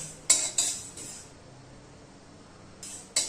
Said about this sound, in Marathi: अर्धा ते एक मिनटं आपल्याला असे मेथी दाणे परतून घ्यायचे आहेत